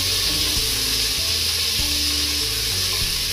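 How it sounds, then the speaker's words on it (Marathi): Finely chopped tomato frying with onion in a pan: a steady, dense sizzle fills the scene throughout, with faint stirring scrapes underneath and no talking. "टोमॅटो परतणार आहोत"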